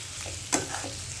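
Egg being stirred around a hot frying pan, a single scraping sweep of the spatula over a soft, steady sizzle, close and alone.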